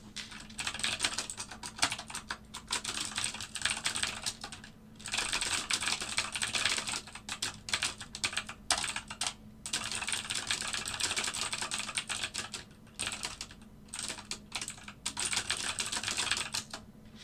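Fast, continuous typing on a loud, clicky mechanical computer keyboard, a dense rattle of close keystrokes in bursts with brief pauses and no talking.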